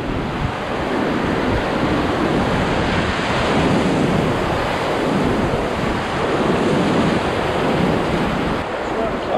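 Whitewater rapids on the Middle Ocoee River roar loud and steady throughout a rafting run, a dense continuous rush of churning water with wind buffeting the microphone.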